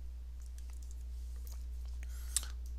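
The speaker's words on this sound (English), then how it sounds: "so you need type the password again" Password being typed on a computer keyboard, heard as faint scattered key clicks over a steady low electrical hum.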